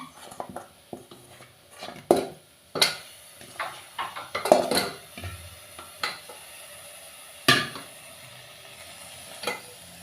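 A ladle scrapes and knocks intermittently around a cooking pot as salt, turmeric and a paste are mixed in for a Rayalaseema-style ragi sangati with crab curry, with light sizzling underneath and no talk.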